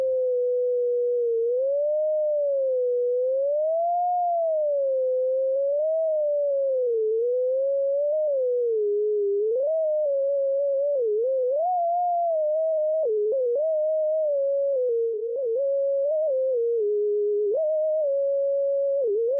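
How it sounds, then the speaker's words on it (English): A sum of sine waves played through the Desmos graphing calculator's tone function gives a single pure electronic tone that glides smoothly up and down, then steps through pitches like a simple melody, steady and alone for about twenty seconds. "add a call to Desmos's tone function, providing it with the frequency of the sum of sine waves at the given time t"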